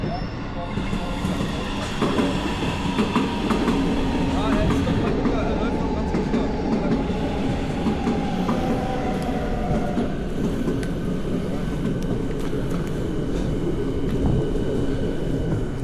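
A train at a Berlin station gives a steady, broad rumble with a rail hiss and a faint rising whine, continuous and fairly loud throughout.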